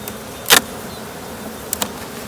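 Honeybees around a hive while supers are pulled: a steady low insect hum close by, broken by a few brief sharp scraping or clicking sounds, with no talking.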